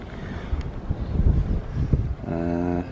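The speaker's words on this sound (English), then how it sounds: "It's a bit windy, isn't it?" Gusty wind buffets the microphone in uneven low rumbling bursts during a bike ride, with a faint tonal hum creeping in toward the end.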